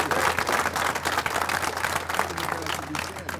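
Audience applause at a utility worker appreciation day event, sustained clapping from the crowd for a speaker, fairly even and ongoing with some voices mixed in.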